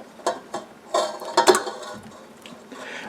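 A stand mixer with a whisk attachment beats an egg and butter, giving close, irregular clattering and whirring bursts of metal against the bowl, then quieter mechanical noise, with no talking.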